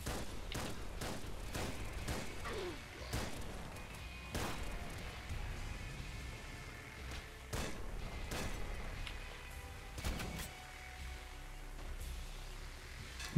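A bullet laser weapon fires in the video game Nuclear Throne: a dense run of sharp, irregular blasts and thumps that keeps going throughout, with loud bursts standing out over a busy layer of game noise.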